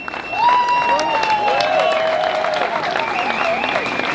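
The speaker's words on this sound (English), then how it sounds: "give yourself a huge round of applause for being here" Applause with cheering and whistles from a rally crowd in Geneva opposing the WHO treaty, a steady, dense wash of clapping that holds for about four seconds with voices shouting over it.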